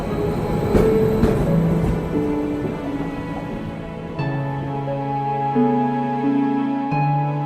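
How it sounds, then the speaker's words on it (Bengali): An Udaipur City Express train pulling away from a station platform, with loud rumbling, rattling carriages, a few sharp clanks at the start, then steady tonal hums and whines as it gathers speed, with no voices. "ট্রেন ছাড়ল।"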